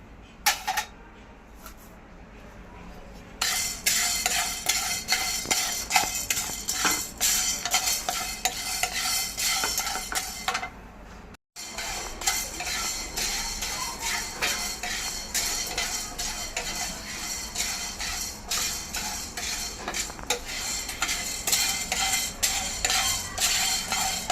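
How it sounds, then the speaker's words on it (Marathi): Whole black peppercorns dry roasting in a pan over a low gas flame for a Malvani masala, with steady stirring scrapes and light rattling of spice against metal, plus a faint sizzle, continuous and close with one brief pause midway. "आता मी आधी हे काळे मिरी भाजून घेते"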